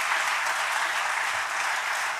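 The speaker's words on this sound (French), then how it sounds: "On peut applaudir ça." Steady applause from a large audience at a Quebec recognition gala honoring contributions to pediatric cancer research, dense and continuous throughout.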